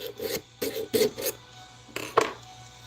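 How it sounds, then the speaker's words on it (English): A hand file rasps on a workpiece at a workbench with several short, scratchy strokes in two groups and a brief pause between them, close and moderately loud. "We're almost to the point I can fit this file in here."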